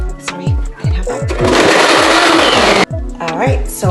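A kitchen blender whirs loudly through a batch of immune-boosting tea, a steady roaring grind for a couple of seconds amid bursts of talk, with thumps and rattles before and after the motor runs.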